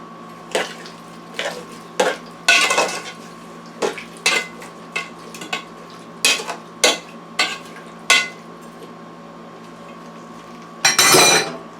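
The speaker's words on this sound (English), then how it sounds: "Let me stir that up." A spoon scrapes and clinks against a metal pressure cooker pot of cubed beef, onions, peppers, tomatoes and water in a series of irregular strokes, close by, ending with a louder rough scrape.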